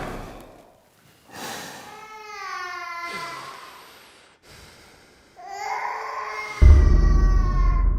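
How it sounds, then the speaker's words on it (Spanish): A baby cries in loud, wavering wails broken by short pauses, close and alone, before a heavy thump and rumble take over toward the end. "escuchó algo que llamó su atención: el llanto de un bebé."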